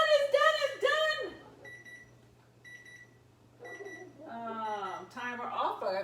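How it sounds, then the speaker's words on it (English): A kitchen timer goes off while seasoned rice cooks, a few short, evenly spaced electronic beeps falling between stretches of a person talking. "Timer off."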